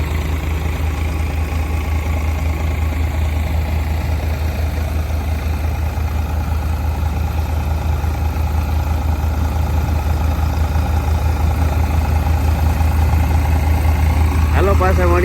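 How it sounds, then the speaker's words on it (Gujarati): A steady thresher engine drones at idle, low and continuous, running nearby on a farm without pause while threshing coriander; a brief rising whine appears near the end. "બાજુમાં બીજું થ્રેસર પણ હાલે છે"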